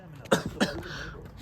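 A person coughs twice in quick succession, close and fairly loud, with a short gap between the two harsh bursts over low background noise.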